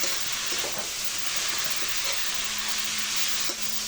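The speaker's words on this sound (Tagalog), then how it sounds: "Habang ginigisa natin para maano yung lasa" Pork sizzles and fries steadily in a pan while it is sautéed for Bicol Express, a constant close hiss with occasional stirring clinks and scrapes.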